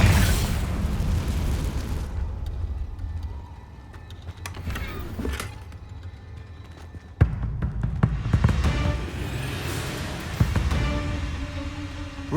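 A burst of fiery spell explosions in Hogwarts Legacy, with several sharp cracks and booms scattered among rumbling debris, moderately loud over ambient game sound.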